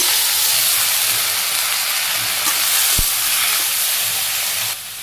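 Water lily stems dropped into hot mustard oil in a village kitchen, giving a loud, steady, broad hiss of sizzling that carries on without a break and eases slightly near the end, with no one talking.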